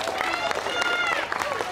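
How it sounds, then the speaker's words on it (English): Audience applause at a school district event, brief broadband clapping mixed with crowd noise and overlapping voices throughout the short stretch. "Give yourselves a round of applause."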